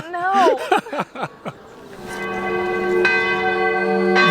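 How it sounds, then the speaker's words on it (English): A church bell tower in Zadar, Croatia rings with sustained, overlapping metallic tones that swell and hang in the air, preceded by a few seconds of people talking nearby. "The bell tower's going off now"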